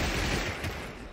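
Gunfire in a raid-defence video game, a brief, loud, continuous burst of rapid shots filling the moment with no talking over it.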